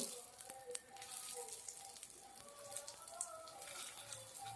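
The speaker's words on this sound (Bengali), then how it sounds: "গ্যাসটাকে মিডিয়ামে রেখে চালটাকে খুব ভালো করে ভেজে নেব" Rice fries in a pan over medium gas heat while making white pulao, giving a faint, crackling sizzle with scattered small pops, close and steady with no talking.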